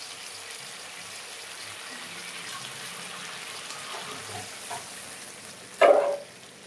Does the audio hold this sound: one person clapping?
no